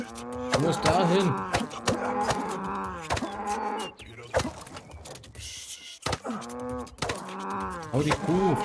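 Cows in the video game Rustler let out long, drawn-out moos in bursts, loud and near, with a brief gap of noisy clatter midway before the lowing resumes.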